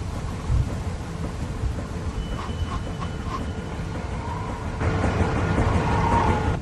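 A thunderstorm rumbles low and steady in the zombie game The Walking Dead, with a rain-like hiss that swells louder about two thirds of the way through.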